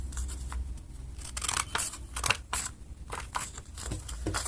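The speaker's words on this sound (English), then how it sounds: "Now we're gonna start off with a folded A4, and we'll cut it in half." Scissors cut through a sheet of folded A4 paper, making a run of crisp, close snips and rustles that come in quick irregular bursts, with no talk.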